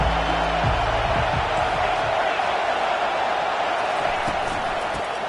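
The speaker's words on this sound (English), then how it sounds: "This crowd bringing the energy and noise early" A college football stadium crowd roars early in the game, a loud sustained wash of voices and cheering with some low thumps near the start.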